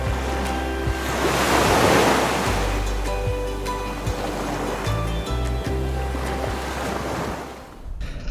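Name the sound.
fresh breeze and waves at sea while sailing off Thailand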